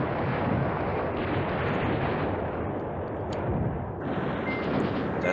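Continuous artillery bombardment in the wargame Command Ops 2, a thick roar of overlapping distant blasts and rumbles with no pauses, steady and fairly loud throughout.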